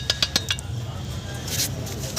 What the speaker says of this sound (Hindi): ये व्हील जॉइंट बहुत ज़्यादा कटा हुआ है और बहुत ज़्यादा टन टन की आवाज़ कर रहा है।